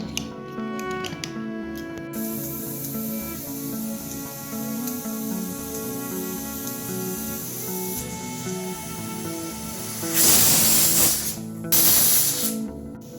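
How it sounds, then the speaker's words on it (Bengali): A pressure cooker cooking dal releases its whistle, a loud hissing burst of steam near the end that cuts out briefly and resumes, over a steady musical background. "এবার প্রেসারের ঢাকাটা এঁটে আমি 3-4টে সিটি দিয়ে নেব।"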